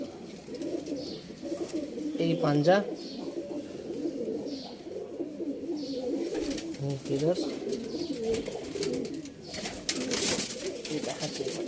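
Pigeons of a prized breed coo steadily in a loft, a close, continuous throaty murmur while someone talks over them.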